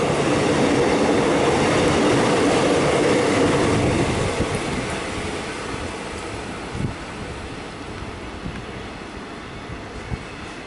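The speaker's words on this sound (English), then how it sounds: "Now, have we got a train passing? We do." An express train rolls through Glenferrie station, Melbourne, its loud clattering rumble holding steady at first, then fading as it moves away, leaving softer knocks and rail clicks.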